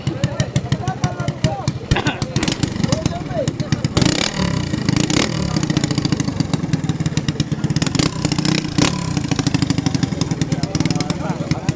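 Engine of a racing pump boat (bangka) running steadily and loudly throughout, a rough clattering mid-pitched drone, with voices talking over it.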